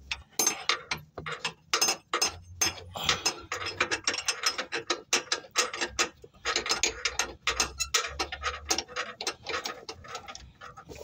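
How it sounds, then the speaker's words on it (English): Power bar breaking loose a bolt and nut on a VW Caravelle lower control arm, a long run of rapid metallic ratchet clicks in irregular bursts with short pauses between strokes, close and crisp. "You use your power bar to loosen. This is the first bolt and nut to loosen."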